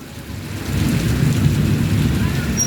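Heavy typhoon rain from Typhoon Paolo pours onto a flooded street in Imus, a steady, loud, dense roar that swells slightly and holds.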